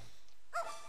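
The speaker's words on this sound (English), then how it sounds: "Dog!" A single short dog bark, a game sound effect from Zelda: Minish Cap, pops up about halfway through after near-silence, then fades quickly.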